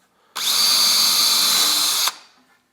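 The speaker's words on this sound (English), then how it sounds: "What I'm going to use here is a countersink drill bit so I can make sure that the screw heads are exposed" A power drill fitted with a countersink bit pre-drills a screw hole in cabinet work, one close, loud whine lasting under two seconds with a sharp start and stop, with no voices.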